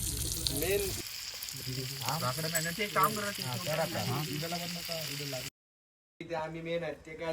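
Chicken and liver sizzle steadily on a hot griddle at a farmhouse while people talk over it nearby; the sound drops out briefly near the end before the sizzling returns.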